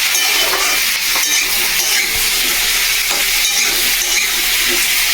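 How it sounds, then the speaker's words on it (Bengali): Mushrooms frying in oil in a pan for chilli mushroom, a steady loud broadband sizzle with occasional stirring clinks and scrapes running throughout. "এবারে এই যে ভাজা ভাজা হবে, একটু ভালো মতো ভাজা হয়ে গেলে তারপরে মশলা দেবো"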